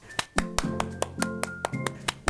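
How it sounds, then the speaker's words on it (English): Hand clapping, about a dozen sharp claps in a fairly steady but slightly uneven rhythm, close and distinct over faint tonal background sounds. "Now clap."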